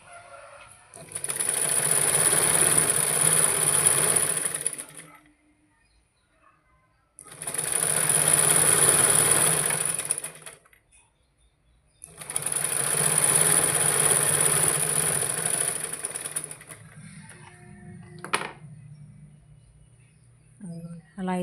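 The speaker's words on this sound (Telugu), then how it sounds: "చిన్న పాదం అంతా అలా బారుగా లైన్గా ఒక కుట్టు వేసుకోవాలి" A sewing machine stitches a long straight seam with a small presser foot, running in three steady bursts of a few seconds each, separated by short pauses, loud and close.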